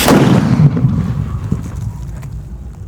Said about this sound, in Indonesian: Banaspati siap menggelegar.